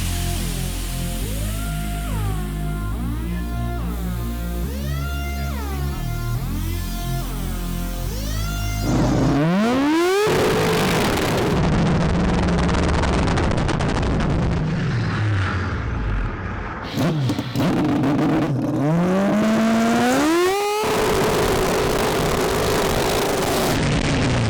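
Car engine revving hard under heavy acceleration with a slipping clutch on a sticky road during a power pull, loud rising engine tones sweeping up repeatedly over about fifteen seconds after a quieter idling passage.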